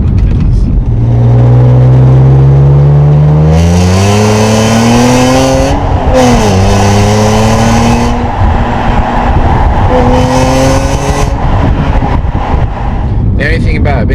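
A BMW E46 M3 engine revving hard through rising gear pulls toward 8,000 RPM, loud and close, with gear changes, tire noise and a voice talking over it.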